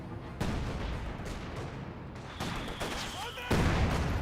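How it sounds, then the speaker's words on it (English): An MG42 machine gun fires in Company of Heroes 2, dense rattling bursts amid distant battle booms and a mortar, moderately loud under a commentator's voice. "MG42 fires with the first strike effect"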